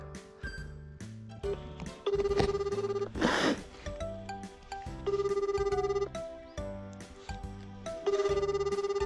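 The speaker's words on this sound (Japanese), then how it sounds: "ちょっと電話してみますか" A phone rings through a call in progress, repeated electronic ringback bursts in a steady pattern with short pauses between rings, loud and close with no talking.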